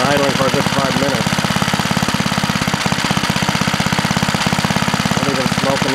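A 2 hp Golden Boy Briggs and Tecumseh 3.5 small engine, unused for about 20 years, idles after a cold start with a loud, rapid, even chugging pulse close to the mic, and a person speaks over it.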